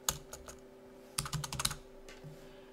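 A computer keyboard is typed on while entering chart labels in a spreadsheet program: a short burst of keystrokes at the start, then a denser cluster of clicks in the middle, close and fairly quiet.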